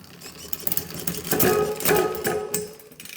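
Mechanical whirring and clicking from a SRAM Eagle AXS electronic derailleur as the bicycle shifts gears, with two louder bursts of chain and derailleur noise.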